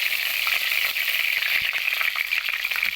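Bay leaves sizzle in hot oil in a wok, giving a steady, dense hiss that carries through the whole moment, close and loud, with small crackles and a faint rattle now and then.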